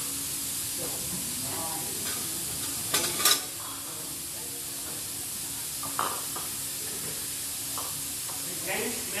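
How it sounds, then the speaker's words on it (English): Pancetta stirs in olive oil in a pan during a pasta cooking class aboard a Carnival cruise ship, giving a constant bright sizzling hiss broken by a few louder scrapes and clinks of the utensil. "stir it"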